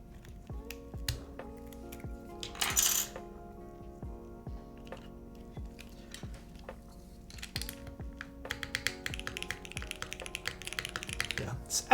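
Keystrokes on a custom mechanical keyboard fitted with Cherry MX Black switches, heard as steady close-up typing clacks with a few heavier spacebar thocks and a faster flurry near the end, no talking.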